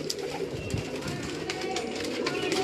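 A Teddy pigeon coos softly on a Karachi rooftop, its low murmuring calls half-buried under background chatter and ambient noise.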